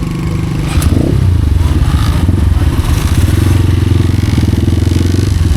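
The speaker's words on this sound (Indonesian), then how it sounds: "Mesin kembali dinyalakan." A motorcycle engine starts up at dusk during a touring and camping ride to Bukit Pinus Paseban in Bogor, with a brief clatter at ignition followed by a steady, loud idle that stays close throughout.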